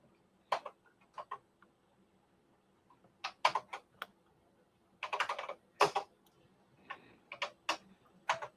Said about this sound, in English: it's so weird using the Commodore 64 keyboard at times